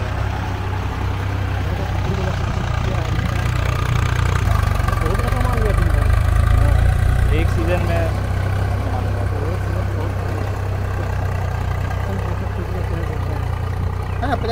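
A tractor engine idles on a village farm in Jharkhand, a steady low rumble that runs throughout under nearby conversation.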